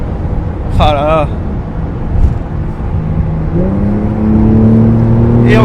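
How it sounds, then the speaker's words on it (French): A Porsche 911 Turbo drives by, its engine note rising in pitch as it accelerates from a whir into a louder roar over road noise, with someone talking over it early on. "Et encore une turbo ici."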